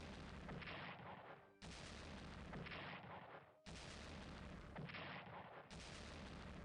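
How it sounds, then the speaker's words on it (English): Repeated loud explosions and artillery blasts from the Strategic Command Pacific war game during the Battle of Okinawa, heavy booming bursts in dense succession with a few sharp restarts, filling the whole stretch with no voices. "Why is everything exploding?"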